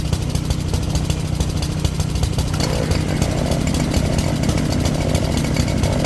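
Small engine running on old, bad gasoline after an oil change, buzzing loudly and continuously up close with a slight change in tone partway through.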